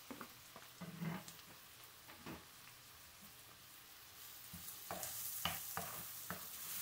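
Tomatoes going into a pan of hot garlic and oil, with a faint sizzle under scattered stirring clatters and scrapes that grow louder and denser near the end. No one speaks.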